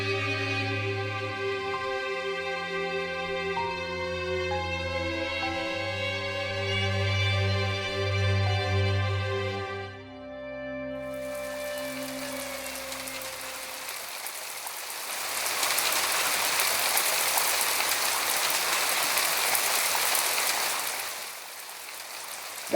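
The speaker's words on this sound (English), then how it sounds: "The rain cycle won't last long." Steady heavy rain pours down as a dense, loud hiss that follows a stretch of sustained, droning music, keeping up for several seconds before easing off.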